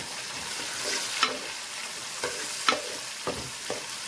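Tomatoes fry in hot oil for a Nellore-style fish curry, a steady soft sizzle broken by a few sharp scrapes and taps of a spoon stirring the pan.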